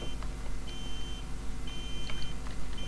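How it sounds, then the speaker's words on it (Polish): Faint repeated electronic car alarm beeps in GTA IV, a few short tones in a row, over a low engine-like rumble. "głupi alarm"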